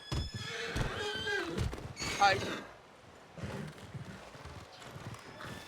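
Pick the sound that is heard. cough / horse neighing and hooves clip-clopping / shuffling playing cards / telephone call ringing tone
horse neighing and hooves clip-clopping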